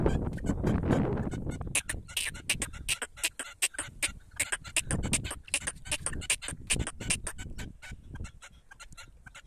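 Partridge calling nearby in the countryside, a rapid series of sharp, repeated clucking notes in an uneven rhythm, loud and close, with rustling behind it.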